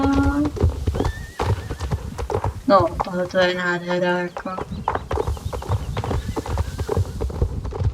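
Horses at a horse fair, with hooves clip-clopping and a loud, drawn-out whinny rising from the middle of the scene, while someone talks throughout.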